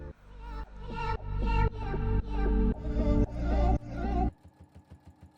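Sewing machine stitching jacket fabric, a run of rapid mechanical stitching bursts that rise and stop repeatedly, then a softer slower rhythmic patter at the end, close and clear with no talking.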